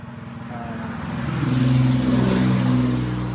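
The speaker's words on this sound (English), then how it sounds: "sorry, some loud trucks going by today." Loud trucks rumble past on a nearby road, a low engine drone that swells to a peak midway and then slowly eases off, with no talking over it.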